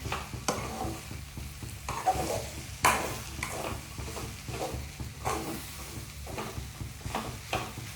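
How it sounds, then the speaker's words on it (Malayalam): Food in a frying pan with soy sauce is stirred, a low steady sizzle beneath scraping and knocking strokes of the utensil at irregular intervals, close up and without speech. "ഞാൻ ഇളക്കി സെറ്റാക്കിയിട്ട് വരാം കേട്ടോ"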